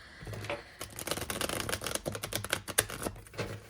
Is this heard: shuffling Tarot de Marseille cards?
yes